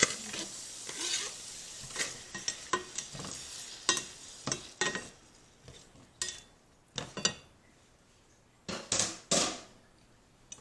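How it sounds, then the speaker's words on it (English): About three-quarters of a cup of onions sautéing in melted butter, giving a soft sizzle broken by repeated close spoon scrapes and stirs against the pan, with no talking. "To the melted butter, we are going to add about 3/4 of a cup of onions, and we're going to get those sauteed"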